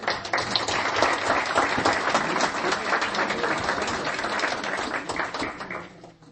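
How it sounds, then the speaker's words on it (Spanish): A church congregation applauds together in a sustained, dense wash of clapping that stays loud for several seconds, then fades toward the end. "Den un aplauso al Señor."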